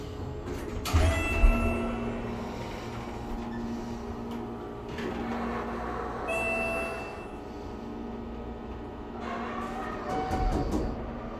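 A Schindler MT 300A hydraulic elevator at a hotel runs with a low steady hum and rumble, punctuated by clunks and a soft chime as the car moves and doors operate, heard up close.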